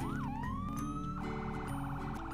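An emergency vehicle siren wails and yelps, sliding up and down in pitch. It is faint and distant over a low background hum.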